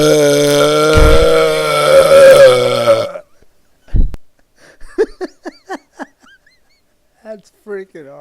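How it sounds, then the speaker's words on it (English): One long, loud, sustained belch of about three seconds, followed by a short sharp burst and then a string of quick breathy gasps and small vocal sounds. "4 seconds of belching, really."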